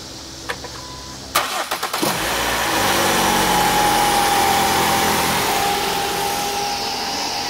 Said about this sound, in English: Blake or Nelson will go start the car